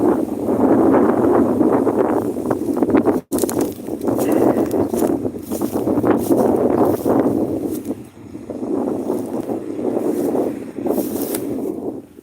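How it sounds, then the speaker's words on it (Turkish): Strong gusty wind blasting straight into an outdoor microphone, a loud continuous low rumbling buffet with surging gusts and a brief dropout, filling the whole stretch. "Bayağı rüzgar var arkadaşlar."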